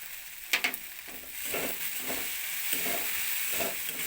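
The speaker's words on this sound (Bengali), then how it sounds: "মুগ ডালটা খুব বেশি ভাজবো না হালকা ভেজে নেব আর দিয়ে দেবো অল্প কাসুরি মেথি" Mung dal frying lightly in a pan with a little dried fenugreek (kasuri methi), a soft steady sizzle with occasional stirring scrapes and a couple of sharper clinks near the start.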